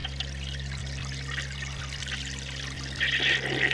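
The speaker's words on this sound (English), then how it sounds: "Yeah, it's just filling right up to the top. It's going to overflow." Water runs and trickles into a clogged toilet bowl after a flush as it fills toward the rim, a steady close liquid rush that swells louder in the last second.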